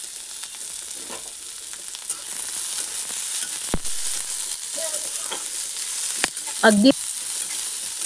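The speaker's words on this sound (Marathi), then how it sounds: "खोबरं भाजून झालं की लगेच त्या तेलामध्ये आपण थोडंसं कांदा देखील भाजून घेणार आहोत" Onion frying in oil in a pan for an egg masala curry, giving a steady hiss throughout with a few stirring scrapes and clinks, and a brief spoken word near the end.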